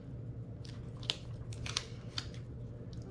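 Scissors snipping through paper planner stickers, a few short crisp cuts at close range over a low steady background hum, with no talking.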